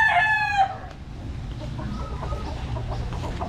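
A backyard rooster lets out a loud crow right at the start, harmonic and bright, then falls away into a softer bed of clucking and low farmyard murmur.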